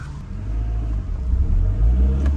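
A Rover Streetwise engine rumbles and revs up as the car pulls away, a low, steady drone that grows slightly louder.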